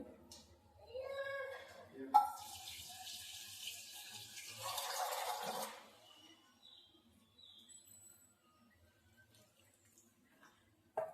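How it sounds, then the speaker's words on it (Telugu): A little water is poured into a pan of okra curry, a steady splashing pour lasting a few seconds, close and moderately loud, framed by someone talking before and after. "కొద్దిగా వాటర్ని యాడ్ చేసేసుకోవాలి"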